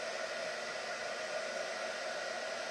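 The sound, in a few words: big air dryer blowing to dry paint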